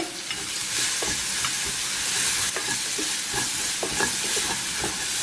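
A spoon stirs spinach paste and fresh cream together in a hot frying pan for a tofu curry, with a steady sizzle and soft scraping strokes recurring throughout, close and moderately loud with no talking.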